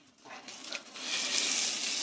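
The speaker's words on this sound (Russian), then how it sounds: "Румянится наш красиво, наш бекон." Bacon browning in a hot pan sizzles and crackles close up, rising to a steady, loud hiss.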